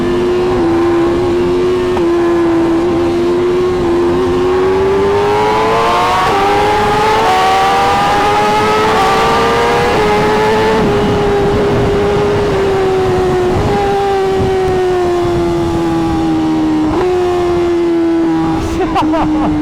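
A BMW S1000RR motorcycle pulls hard through Dallas traffic, its engine note climbing through the revs in long rising sweeps, dipping at each gear change, loud and close with wind rush.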